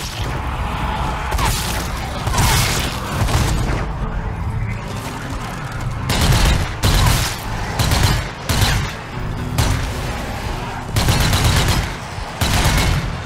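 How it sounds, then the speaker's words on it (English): A heavy machine gun in the video game Zombie Army 4 fires in repeated loud, booming bursts separated by short pauses, with each volley a dense rattle of rounds. "finish them off with the heavy machine gun"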